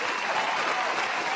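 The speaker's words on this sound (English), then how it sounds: "I love the applause." Steady, dense applause from a crowd on a boxing talk show panel, an even wash of clapping lasting just over a second with no voices over it.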